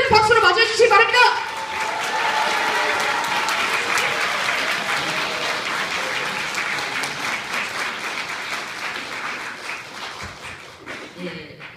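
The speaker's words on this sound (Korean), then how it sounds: "발언 큰 박수로 맞이해 주시기 바랍니다" A crowd at a Women's Day labor union gathering breaks into loud, sustained applause welcoming a speaker, dense clapping that swells at first and then slowly fades, with some voices briefly mixed in near the start and end.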